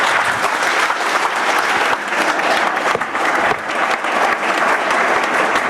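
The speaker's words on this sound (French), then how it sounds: "C'est vous qu'il faut applaudir" Dense, sustained applause from a large audience at a New Year's greetings ceremony in Toulon, steady and loud throughout with no break.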